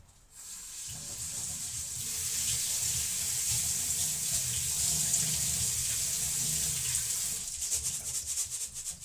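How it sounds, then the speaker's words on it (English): Running tap water pours steadily into a kitchen sink as lentils and millet are rinsed, a continuous close rushing wash lasting several seconds with no talk. "rinse my lentils. I will also rinse the millet."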